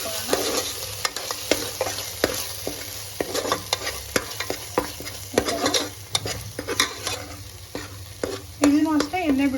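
Ground masala paste fries with chicken liver in a pan, a steady sizzle broken by repeated scraping strokes of a spoon stirring the mixture, close and clear with no talk.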